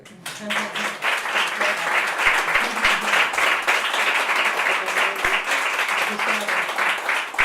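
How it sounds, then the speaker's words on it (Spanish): An audience applauds to welcome a guest at a flamenco-in-school event, with dense continuous clapping that stays loud and near throughout, a few sharper individual claps standing out. "yo quiero un aplauso"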